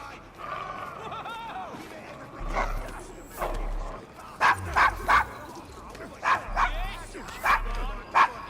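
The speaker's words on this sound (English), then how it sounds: "Is your dog quite all right?" A dog in the Victorian London streets of Assassin's Creed Syndicate barks repeatedly in short, sharp bursts with some yips and whimpers, fairly close, while people talk over and between the barks.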